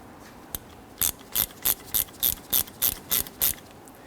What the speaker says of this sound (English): Now we can go ahead and snug these two caliper bolts down